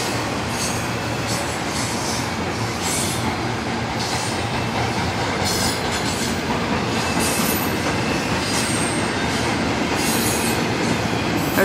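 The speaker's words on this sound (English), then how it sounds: "A lot of one containers on this train." A CSX container freight train rolls steadily past close by, carrying many battered containers; loud continuous rumble of wagons with rhythmic wheel clatter and brief high squeals over rail joints, with no talk.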